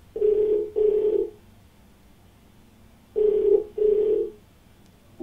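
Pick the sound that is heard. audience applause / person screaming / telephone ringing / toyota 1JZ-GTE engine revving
telephone ringing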